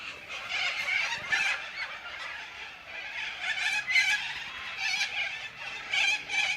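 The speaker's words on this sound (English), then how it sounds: "There's sulphur-crested cockatoos," Sulphur-crested cockatoos screeching outdoors, a raucous flock giving harsh, overlapping calls throughout at moderate distance, with no talk.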